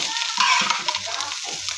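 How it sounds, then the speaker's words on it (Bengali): Fish roe frying in a pan makes a brief, close, bright sizzle with a few stirring scrapes over it. "ডিম ভাজতে তেমন সময় লাগে না, তবু মাছের ডিম এই জন্য একটু ভাজতে হচ্ছে"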